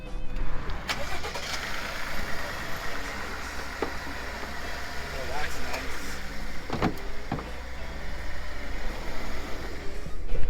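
A vehicle engine cranks and tries to start before being loaded onto a trailer, heard as a steady rumbling drone with occasional mechanical clicks under faint background voices.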